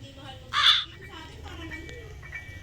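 A single loud crow-like caw near the start, close and brief, with people talking quietly around it.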